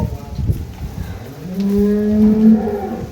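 A purebred dairy cow at a farm in Dinajpur gives one long, loud, rising moo in the second half, following low rustling and handling noise, with no one talking.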